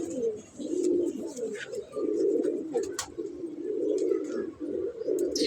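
A pigeon coos in soft, repeated throaty phrases close by, rising and dipping in a steady rhythm, with a few faint bird chirps and small clicks around it.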